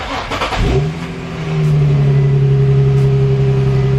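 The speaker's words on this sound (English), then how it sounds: "Start the car and see what happens." A car engine cranks briefly, catches and settles into a loud, steady idle hum close by, with no one talking.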